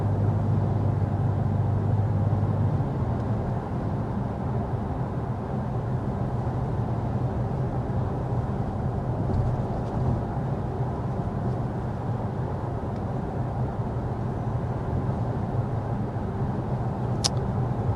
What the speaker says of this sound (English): we are speeding up to 55 miles per hour so we can get our sound level reading